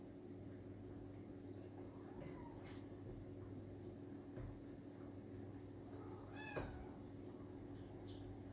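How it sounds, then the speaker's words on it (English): Cats meow a few times in the background of a home kitchen while a Thai green curry is being plated, short faint calls over a steady hum, with little talking. "The cats are talking, interrupting my segment."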